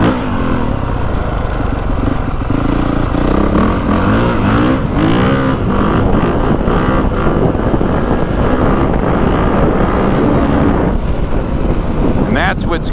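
Honda CRF450R dirt bike engine on map 3 with traction control off, revving loud and close in a steady, barky roar with wind buffeting throughout.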